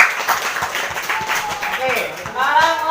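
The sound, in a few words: clapping for group 1 in a class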